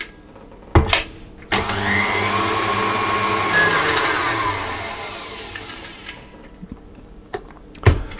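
An electric mixer whirs steadily through speculaas doughnut muffin batter for about five seconds, loud and close, its motor pitch sagging slightly as it runs, framed by bowl knocks before and after.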